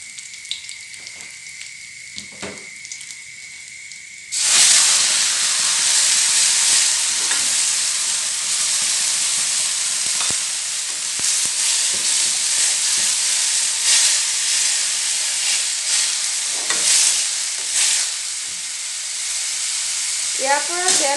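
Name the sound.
fenugreek seeds and spices frying in oil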